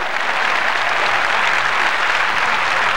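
A congregation at a large evangelistic campaign meeting in Santiago, Chile bursts into loud, dense applause, steady clapping close and continuous throughout.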